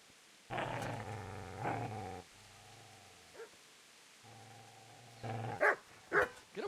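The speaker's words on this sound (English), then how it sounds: "Get away, you mutt!" A dog in Kingdom Come: Deliverance growls low and long twice, then snaps off a few sharp, close barks near the end, with quiet gaps between the outbursts.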